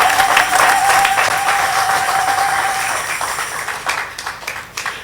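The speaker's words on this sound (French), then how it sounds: "Est-ce qu'on peut applaudir le Seigneur?" A church congregation bursts into loud, dense applause during a Sunday worship service; the steady wash of many hands clapping fills the space and then thins and tapers off toward the end.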